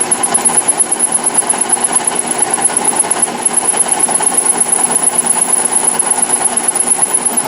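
A metal-cutting job on an Atlas lathe, cutting a Woodruff keyseat, gives a loud, steady, rapid chattering under a high whine throughout the clip.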